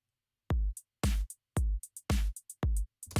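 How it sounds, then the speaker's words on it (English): Gated, choppy electronic hi-hat pattern programmed in Ableton, playing with a punchy kick and snare: loud, tight rhythmic bursts with abrupt cutoffs and short gaps between hits, no voices. "So I did another hi-hat pattern here, and it's this is what it sounds like."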